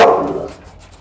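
A single adult dog bark, close and fairly loud, with a sharp onset that fades away over about a second, no voices present.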